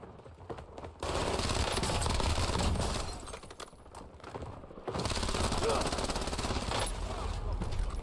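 Sustained bursts of machine gun fire in the shooter video game Warzone, loud and dense, with two long volleys separated by a brief lull and no voice over them.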